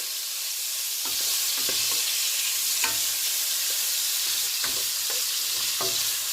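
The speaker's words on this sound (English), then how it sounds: "just going to give the sausage a little bit of a stir here." Sausage with bell peppers and onions sizzles steadily in a pan while a utensil stirs it, making several sharp scraping clicks at irregular intervals over the constant hiss.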